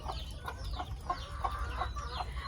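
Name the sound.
domestic mother hen clucking with ducklings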